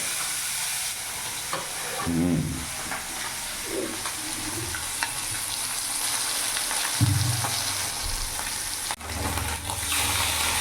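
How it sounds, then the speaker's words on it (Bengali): Small puti fish frying in hot oil, a continuous close sizzle broken by a few soft knocks and stirring scrapes, with a brief dip near the end. "তেল গরম হয়ে গেছে, এবার পুঁটি মাছগুলো ছেড়ে দেবো।"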